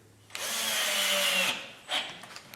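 A power drill spins and twists as it bottoms out while boring honey locust wood, a loud close whine lasting about a second before cutting off, followed by a short second burst.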